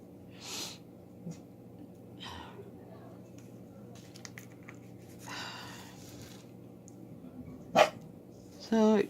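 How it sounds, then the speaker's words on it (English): A pet dog shut in a back room barks in short, muffled bursts from a distance, spread across a stretch of quiet room noise, with snorting, sniffing and a sharper close noise near the end. "she can just bark right back there in the back room"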